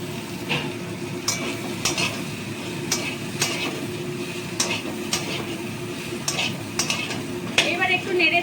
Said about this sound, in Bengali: আলু বরবটি মূলো সব একসঙ্গে ভাজা হচ্ছে